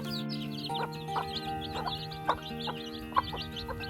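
Hen with a brood of chicks, soft repeated clucks and thin chick peeps on a farm after rain, moderately close, in an irregular chattering rhythm over a quiet background.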